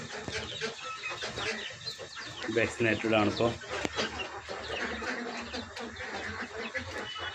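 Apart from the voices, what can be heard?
native village chickens clucking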